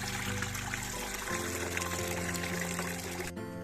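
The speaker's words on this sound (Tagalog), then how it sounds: "maglagay tayo ng tubig" Water pours steadily into a pot, a continuous splashing stream whose pitch shifts as it fills, ending abruptly.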